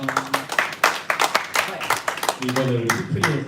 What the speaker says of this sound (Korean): 잘 갔다 오라고 박수 한번 부탁드릴게요.